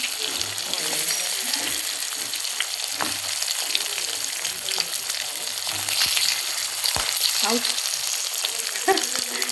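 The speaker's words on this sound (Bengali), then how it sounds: "একটু হালকা করে ভেজে নেব" Food fries lightly in a hot pan in a home kitchen, a continuous close sizzle with scattered sharp pops and the occasional clink of stirring.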